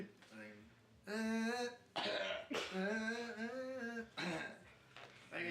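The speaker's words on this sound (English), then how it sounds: "he's got a cough. I've got a cough." A person coughs repeatedly at close range, harsh raspy bursts mixed with voiced, throaty sounds.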